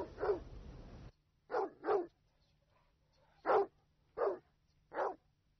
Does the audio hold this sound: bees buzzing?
no